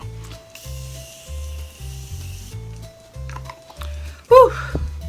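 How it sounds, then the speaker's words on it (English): A short hissing burst of face mist spray close by, briefly rising out of a quiet background with a low steady hum and faint rustling. "I'm gonna spray my face"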